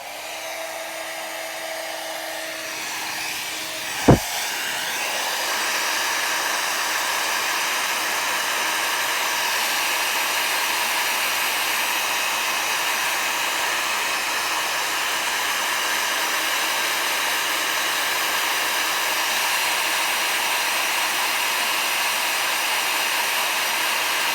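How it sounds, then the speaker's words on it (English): A heat gun switches on with a sharp click and ramps up into a loud, steady blowing roar of hot air that continues unchanged to the end, with no voices. "I'm going to turn on the heat gun"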